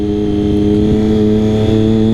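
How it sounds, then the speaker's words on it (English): A motorcycle engine hums steadily at a constant pitch while its revs are pulled up by the wheels under engine braking, with a droning tone close by and no talking. "the wheels are going to bring the engine revs up"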